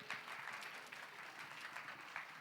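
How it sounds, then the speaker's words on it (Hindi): Steady applause from a small audience at a school Teachers' Day celebration, for a child who sang, continuous clapping at moderate distance with no talking. "हमारे लिटिल चैम्प के लिए एक बार तो तालियां बनती है"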